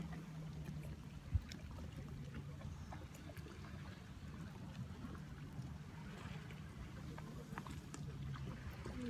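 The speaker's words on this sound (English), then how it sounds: "You take your attention to the sound of the water again, lapping in and out." Gentle water lapping against a pier among moored boats, a soft steady wash with a low hum beneath and one brief knock near the start.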